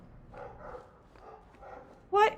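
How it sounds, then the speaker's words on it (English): A dog in Dragon Age 2 gives soft muffled yips and whimpers, then one sharp, loud bark close by at the end. "Why are you in my room barking?"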